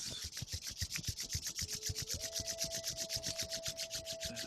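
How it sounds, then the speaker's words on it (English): Palms rubbing briskly together during chi kung practice, a steady run of rhythmic dry swishing strokes, close and fairly quiet, with no talking. "and then rubbing your hands"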